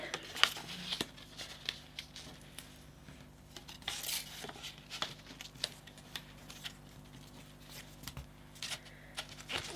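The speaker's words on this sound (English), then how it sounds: "So I'm just going through all of these score lines and folding them up." Scored paper cube templates are creased and folded by hand along score lines, producing soft continuous crinkling, rustling and light crisp crackles, close and quiet throughout with no talk.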